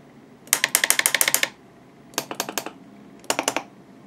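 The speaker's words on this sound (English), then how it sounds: "Clicking is the solenoids and the test switches for the triples." Solenoids and test switches on a radio-controlled model warship click in three rapid bursts, the first longest, each a sharp, close, dry series of mechanical ticks with near silence between them.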